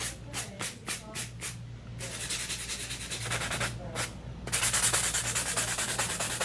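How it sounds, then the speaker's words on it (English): A long coffin-shaped acrylic nail is buffed smooth with quick back-and-forth rubbing strokes, close and crisp, first in short separate passes, then in a continuous scratchy stretch with brief pauses. "At that, I'm just gonna give it a nice buff."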